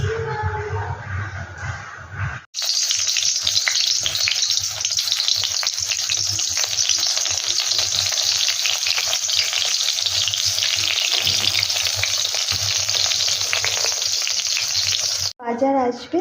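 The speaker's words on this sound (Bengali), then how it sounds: "এবার দেখো বেগুন ভাজবো" Brinjal slices frying in hot oil in a pan on a home kitchen stove, a loud continuous sizzle with crackling that runs unbroken for most of the stretch, with brief quieter moments at the start and end.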